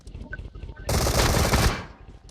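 Rapid automatic gunfire from dual P7 pistols in a video game, a dense loud burst lasting under a second, with players talking faintly around it.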